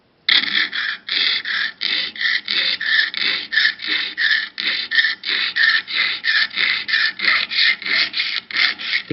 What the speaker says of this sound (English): Take your jeweler saw and slowly begin to cut.